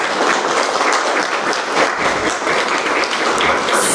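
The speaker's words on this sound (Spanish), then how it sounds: "Un aplauso." Conference audience applauding after a talk, steady dense clapping from a crowd filling the room at moderate loudness for the whole stretch.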